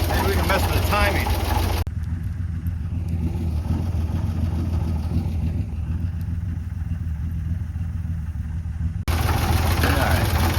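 The engine of a 1956 International S-160 4x4 truck, under investigation for vacuum leaks, idles steadily and loudly throughout, with its steady rumble briefly muffled in the middle stretch.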